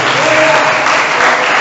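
A Catholic congregation applauds together at an evening service, a dense, steady wash of clapping that fills the whole short stretch at full volume.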